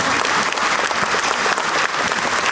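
Dense, sustained applause from an audience after a Hindi poem reading, loud and close with many hands clapping steadily throughout.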